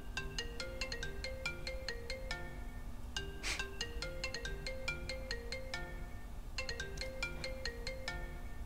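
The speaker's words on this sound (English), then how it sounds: "I like this ringtone." A phone ringtone plays a repeating melodic tune in steady cycles, with a brief louder burst partway through, carrying on unanswered without any voices.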